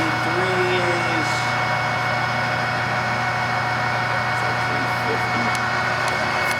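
A Clausing 600 series 11 by 30 inch lathe runs steadily at 350 RPM, giving a continuous mechanical hum with a low motor drone and faint whine, close by, with no speech.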